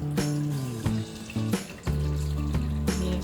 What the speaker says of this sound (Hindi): इसीलिए हम इस पे ठंडा पानी डालेंगे।